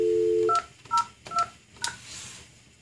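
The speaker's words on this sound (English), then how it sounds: "From this phone, I will now call 202 and it will send the call back here." A VoIP desk handset dials extension 202, giving a few short DTMF keypad beeps in quick succession after a brief steady dial tone, clear and close with no talking.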